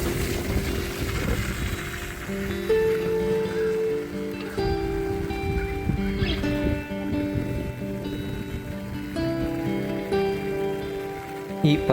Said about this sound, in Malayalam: ദൂരെയായി കേൾക്കുന്ന ഈ മഴയുടെ സംഗീതവും